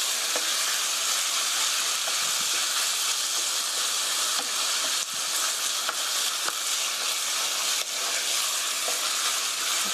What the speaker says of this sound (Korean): 고기가 하얗게 될 때까지 볶아주세요.